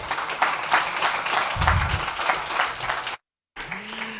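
Conference session audience applauds a presenter who works for the Czech government, steady crisp clapping from a modest crowd, interrupted by a short dropout before a brief low hum.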